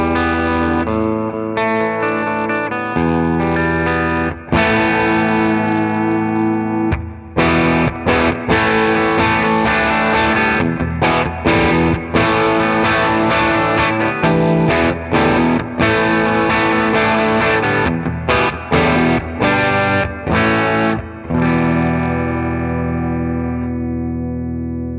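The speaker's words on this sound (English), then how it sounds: "Bridge, I'm going to put a bit more drive on the bridge." Chapman ML3 Pro X electric guitar on its bridge pickup with added drive, a loud, continuous riff of gritty distorted chords and notes with chorus-like shimmer, played alone for the full length.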